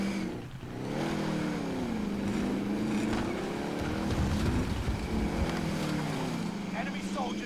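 A vehicle is driven around in the video game Call of Duty Warzone Pacific, its engine humming and swelling in pitch as it speeds up and slows, with game effects and background noise layered over it.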